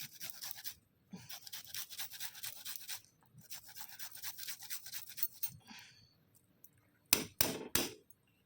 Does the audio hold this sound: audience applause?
no